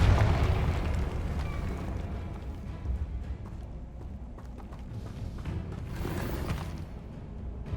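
A Confringo spell explosion in Hogwarts Legacy bursts loudly at the start and rolls off into a low rumble, followed by a second, fainter blast a few seconds later.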